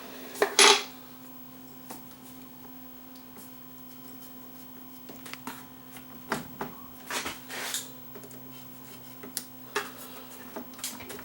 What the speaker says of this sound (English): At this point now I can undo the set screws and take these knobs off.